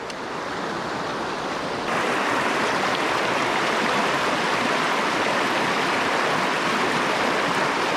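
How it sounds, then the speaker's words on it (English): Small waterfall on a river, a steady dense rush of falling water that grows louder after about two seconds and holds constant, with no voices. "Got a little waterfall."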